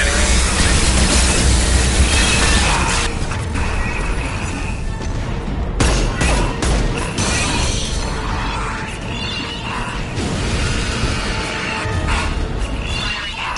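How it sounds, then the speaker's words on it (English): Anti-ship batteries fire in a sci-fi video game, a loud sustained barrage of booming blasts and crashing impacts layered over dense rumbling noise, with a sharp burst midway. "Firing anti-ship batteries at collector vessel"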